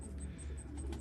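Pigeons in a backyard loft kept for racing, with soft repeated cooing and low murmuring over a steady close bed of bird noise, punctuated by faint high chirps.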